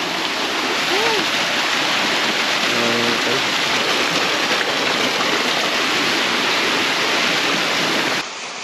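Hirot Falls in Calbayog City, Samar, pours in a loud, steady broadband roar of rushing water that stays constant and close, with a faint brief voice near the start.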